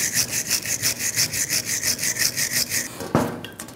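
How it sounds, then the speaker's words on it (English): A wire brush scrubs corrosion and rust off rear brake parts of a 2007-2010 Mini Cooper in fast, regular back-and-forth strokes, loud and close, with no talking before a final scrape near the end. "Use a wire brush. Just clean up any corrosion or rust."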